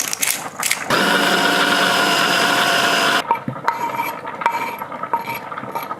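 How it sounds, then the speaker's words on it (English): A blender whirs loudly for about two seconds mixing quinoa and lentils, then cuts off, leaving scattered scraping and knocking sounds nearby. "I have put the mixture in the blender"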